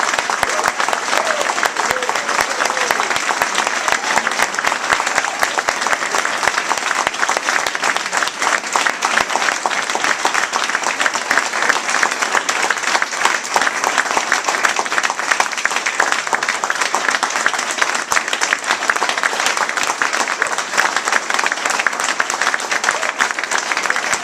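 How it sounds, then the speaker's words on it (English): Loud, sustained applause from the audience at a press conference on higher education bills, dense clapping held steady at close range. "you always get a round of applause if you bring your checkbook"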